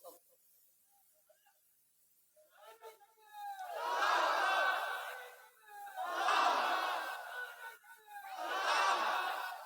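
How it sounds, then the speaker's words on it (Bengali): A crowd at an Islamic religious gathering shouts takbir in unison, three loud, swelling collective chants in steady succession after a brief voice leading in. "ওই পিছনে মুরব্বি, তাকবীর দাও।"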